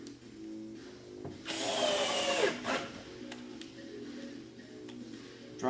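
A power drill driving screws into wood, with one loud, close burst of motor whine lasting about a second, then quieter handling sounds and a low background hum.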